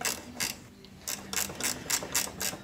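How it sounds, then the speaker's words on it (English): A 14mm spanner works the top shock absorber nut on a 1993 Pajero, giving a run of quick metallic ratcheting clicks in short bursts, close and clear. "I'm actually using a 14mm spanner behind the brake lines"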